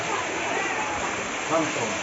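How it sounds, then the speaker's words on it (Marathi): Water rushing steadily near a hilltop temple, a constant close wash of flowing sound with no break across the short moment. "इथून पाणी येतंय"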